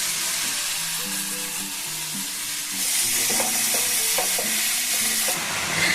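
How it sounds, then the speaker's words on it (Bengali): Vegetables with grated ginger stirred in a hot frying pan, with a steady close sizzle and scraping stir strokes under faint tonal background sounds. "সবজিগুলো এখন মিশিয়ে দেবো আমি"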